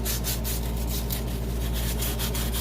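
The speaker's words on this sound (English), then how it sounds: "the edges, round them a little bit with the sandpaper" Sandpaper rubs along the edges of cut stone, rounding them off in a continuous, loud, close scratching with a steady back-and-forth rhythm and no voices.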